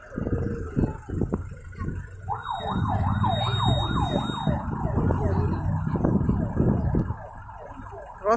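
A wailing ambulance siren sweeps up and down steadily over road traffic noise during a bicycle and vintage car procession in Türi, Estonia, fairly close and loud for several seconds.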